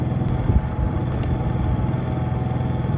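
Honda portable generator running steadily with a loud, continuous low engine drone and a mechanical rumble, heard close and alone throughout.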